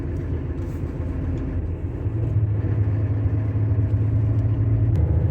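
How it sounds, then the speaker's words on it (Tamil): A low-bed truck climbs a mountain road, heard as a low, rumbling engine drone. The drone steadies into a stronger, sustained hum after a couple of seconds, with no voices. "ஏதோ லோ பெட்டில் வண்டி ஏறுற மாதிரி இருக்குது"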